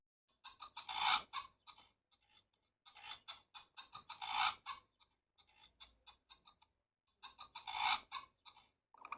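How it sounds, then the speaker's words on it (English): An ostrich gives chirping and barking calls in three clustered bursts of rapid, clucking notes separated by short pauses. The calls are fairly close and there is no talk. "Ostrich. Ostrich sound is chirp and bark."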